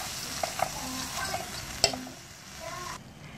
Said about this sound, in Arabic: هبدأ انزل بعد كده بالخضار اهو، وبرضو هقلب الخضار كويس جدا